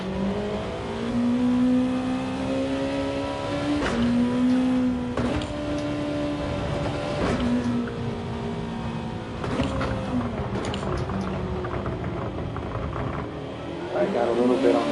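Powerful race car with slick tires accelerating on a track, a steady engine drone with rising and falling pitch as it revs through gears, heard from onboard at moderate level.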